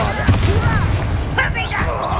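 Confringo spell explosion in Hogwarts Legacy goes off as a short burst with a thumping boom, mixed with shouted voices and combat effects in a brief, busy moment.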